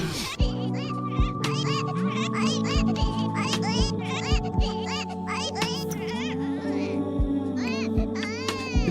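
Simulated babies in The Sims coo, babble and squeal in short bursts over a humming game soundtrack, with intermittent thumps and clicks throughout.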